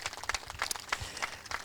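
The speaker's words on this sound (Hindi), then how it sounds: "इन सब के लिए ज़ोरदार तालियां बजाएंगे हम सब," Scattered, fairly quiet clapping from an audience greeting guests at an International Yoga Day celebration, uneven and thin rather than a full ovation.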